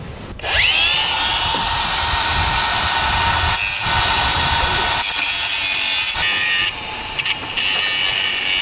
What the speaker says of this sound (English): Then we get the grinder out again.